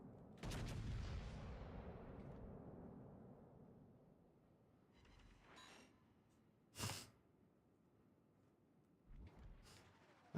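Naval gunfire in World of Warships lands as a heavy booming blast that rumbles away, followed later by scattered, fainter shots and impacts, with quiet gaps between them.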